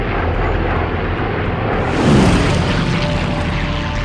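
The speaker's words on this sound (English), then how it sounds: "The massive strike force numbers over 200 planes." A massed WWII strike force of over 200 propeller warplanes flies over the Solomon Islands near Guadalcanal, heard as a loud, continuous engine drone that swells in a brief heavier surge midway.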